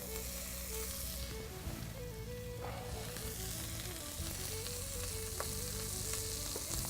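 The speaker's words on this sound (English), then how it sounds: "Give it a stir again." Molasses is stirred into a pot of sauce, a faint, steady sizzle running under quiet tonal background sound with occasional soft scrapes.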